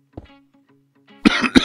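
A man coughs twice, close and loud, in quick succession, after a faint throat sound and a brief murmur, in the middle of German Minecraft gaming commentary.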